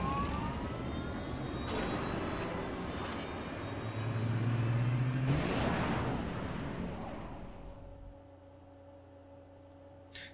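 Fighter jet engine spooling up in Resident Evil 6, a loud sustained roar with a rising whine that swells midway, then drops to a lower idling hum near the end.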